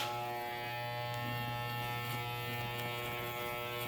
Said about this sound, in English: I have to use a clipper guard for that.